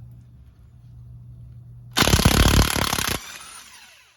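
Sharp burst of a loud power tool, likely an impact wrench, freeing a nut on a 1960 Chevrolet Impala, roughly a second long after a low idling hum, then a fading ring.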